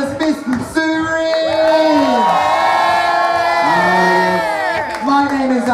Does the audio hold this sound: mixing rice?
no